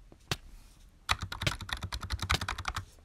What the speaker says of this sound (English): You know it's a membrane keyboard when you hear that, right?